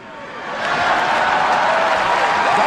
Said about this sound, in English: I bet you never thought Hillary would get an applause at this convention.